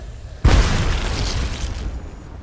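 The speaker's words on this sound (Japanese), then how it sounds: "気をつけろ、グレネードだ。" A grenade blows up in the Apex Legends Mobile video game, one sudden loud boom followed by a long rumbling roar that fades over about two seconds.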